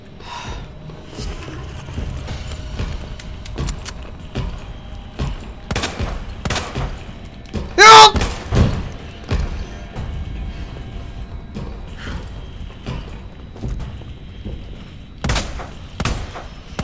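Gunfire in the Resident Evil 2 video game: a string of sharp shots spread irregularly across the stretch, one especially loud blast near the middle, over a steady game-ambience bed with no talking.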